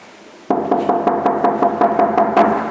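Someone knocks on a door in a rapid series of about a dozen sharp, fairly loud raps that start abruptly after a short quiet moment and continue at an uneven, insistent pace.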